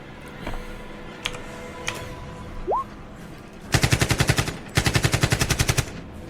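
Sound effect of automatic gunfire during an Alien tabletop roleplaying session: two rapid, loud bursts of evenly spaced shots after a few faint clicks and a short rising whistle-like tone.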